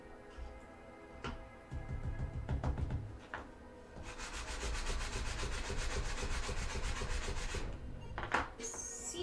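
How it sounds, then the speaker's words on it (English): A file cleaner scrubs along sandpaper during cosplay armor crafting, producing soft scattered rasps early that become a steady, close rubbing scratch for several seconds. "this is the file cleaner that I'm using to just clean the sandpaper"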